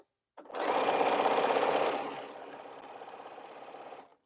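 Sewing machine stitching a T-shirt quilt, running in one continuous whirring burst of close, steady rapid stitching that eases slightly in pitch partway through before stopping.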